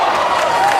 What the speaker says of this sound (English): Yeah, the crowd's not agreeing to that blocking foul call